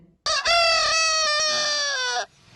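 A rooster crows once, loud and close, one long drawn-out cock-a-doodle-doo lasting about two seconds with no talking.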